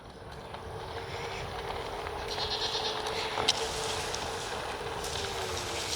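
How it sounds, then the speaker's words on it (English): Goats bleat faintly amid steady wind and outdoor hiss, their calls rising briefly above a constant low background. "Hold on, let's get the goats."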